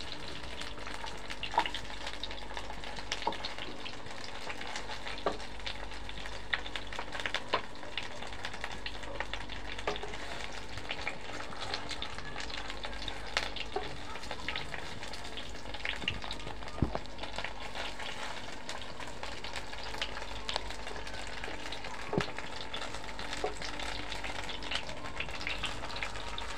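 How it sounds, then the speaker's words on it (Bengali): Stuffed pointed gourd dolma fries in hot oil with a steady, soft sizzle and occasional pops and crackles, continuous for a long stretch with no talking. "দোরমাগুলো ভাজা হয়ে যাচ্ছে।"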